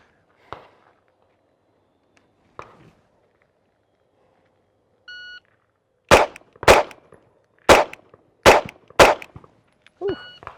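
Five sharp, loud pistol shots ring out in a quick, slightly uneven string during a live-fire shooting test, preceded by a couple of fainter clicks and handling noises and followed by a short metallic ring.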